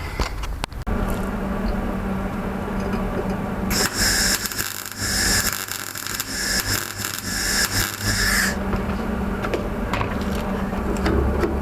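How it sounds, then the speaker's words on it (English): Welding tabs onto the chopped sills of an Audi A3 track car, a loud crackling, sputtering arc burst of about five seconds in the middle, with workshop hum and clatter before and after. "And I'm just about to weld them in."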